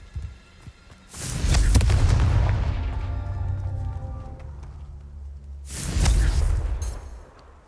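Two heavy booming blasts from the Confringo fire spell in Hogwarts Legacy, each a loud close explosion that rolls on and decays slowly, the second hitting about four seconds after the first.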